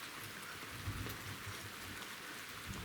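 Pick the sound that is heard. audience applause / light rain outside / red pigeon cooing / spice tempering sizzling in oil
light rain outside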